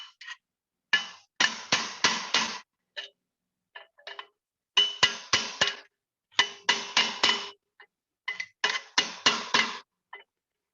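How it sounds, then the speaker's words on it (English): A curved chisel hammered into sheet metal during fold forming gives groups of four or five sharp metallic taps. The groups repeat several times with short pauses between them, and no one speaks. "Now I'm going to use a curved chisel."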